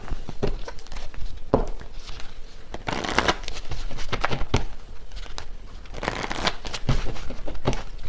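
A deck of tarot cards is shuffled by hand close up, with repeated crisp riffles and flicking bursts in an uneven rhythm, with no voices.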